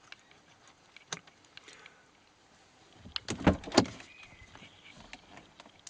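A Volvo S80 car door latch clicks and swings open with a short burst of clunks and rattles, preceded by a single sharp click; no talking.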